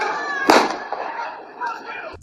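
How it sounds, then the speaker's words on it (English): Gunfire from recorded street footage: a single sharp, loud crack stands out early, followed by fainter echoing bangs and a softer report near the end, over faint background noise. "You heard the 4 gunshots go off."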